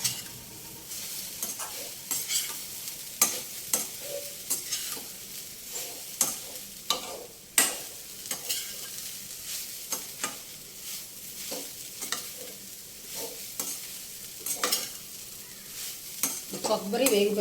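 Grated coconut and carrot being stir-fried in a pan for coconut carrot sesame laddu, with a low sizzle under frequent sharp scraping and tapping of a spatula against the pan, close and fairly quiet, with no talking.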